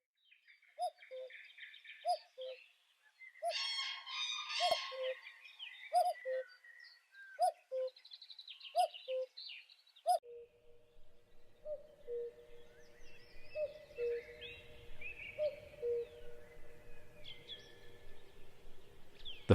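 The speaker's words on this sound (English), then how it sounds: "the family's name originates from the characteristic call of the common cuckoo" Repeated two-note calls of the common cuckoo ring out in a regular rhythm over the first half, joined by busier chirping from other birds, then softer, more distant calls continue amid faint outdoor background.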